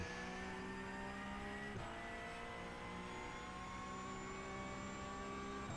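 Porsche 991 GT3 flat-six engine in the iRacing sim, held at full throttle down a bumpy back straight, a loud steady high-pitched wail climbing slowly in pitch with a brief dip near two seconds as a gear shifts.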